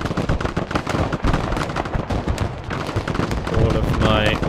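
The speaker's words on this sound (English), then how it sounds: "the machine guns of my supply vehicles even helping in this case" Machine gun fire from supply vehicles in the real-time strategy game Broken Arrow, a continuous rattle of rapid automatic bursts mixed with heavier booms of battle, loud and dense throughout the multiplayer fight.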